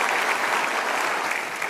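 A studio audience at an Indonesian television talk show bursts into brief, dense applause, a steady even roar of clapping with no voices over it.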